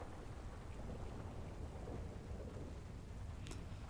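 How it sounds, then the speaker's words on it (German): A heavy thunderstorm with rain, heard while driving, makes a constant dense hiss of downpour with a low rumbling undertone, steady and moderately distant throughout, with no voices. "das Gewitter ist schon krass"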